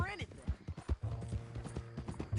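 Horse hooves clip-clop steadily in Red Dead Redemption 2 while a captive rides tied up toward Saint Denis, the rhythmic steps running under continuous conversation between characters.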